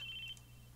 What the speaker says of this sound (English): It was the sound of phone ringing